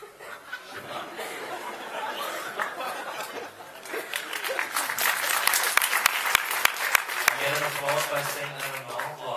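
Laughter and chatter from an audience at a director's Q&A after a screening swell into applause, sharp hand claps piling up midway, then a voice speaks over the fading clapping.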